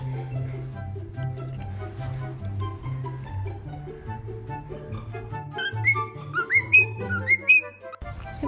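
Pet birds whistle melodic, repeated notes in a steady rhythmic pattern, then break into rising chirps and sharper calls near the end, close and clear with no talk.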